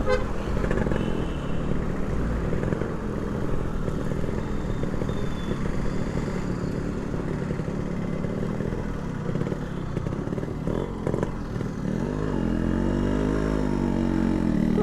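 A Yamaha RXZ 5-speed two-stroke motorcycle rides along with a continuous buzzing engine note, rising and falling as it makes a U-turn, close and loud, with faint traffic and a brief horn toot.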